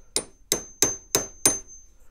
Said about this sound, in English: I'm going to try different hammers. I don't know, probably driving everybody crazy. We use a mallet.